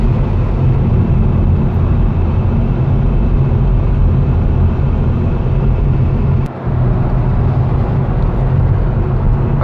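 A 2020 Hyundai Veloster N drives on backcountry roads with its exhaust in performance mode, a loud, continuous low drone and road rumble from inside the cabin, with a brief dip around a gear change and no talk.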